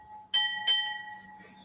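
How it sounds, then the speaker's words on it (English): A Navy bell tolls twice at a military funeral, two clear ringing strikes with long sustained overtones decaying into quiet between and after. "Punctuated by the tolling of a Navy bell"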